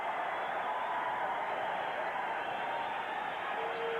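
A boxing crowd roars steadily after Robby Epps's victory over Sugar Ray Phillips, a dense, continuous arena din that stays loud and unbroken throughout without individual voices standing out.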